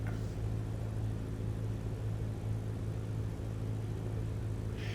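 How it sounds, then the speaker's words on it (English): A small plane in a flight simulator game flies a low pass over a hangar, heard as a steady low engine drone that holds constant with no other sounds. "I'm just going to do a low pass and fly over that hangar so you can see what it's supposed to look like."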